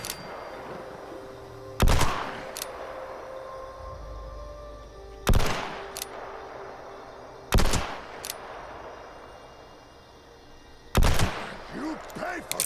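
Four loud, spaced gunshots ring out in Fallout 76, each a sharp crack with a short echo, separated by several seconds of quieter game ambience and faint distant sounds.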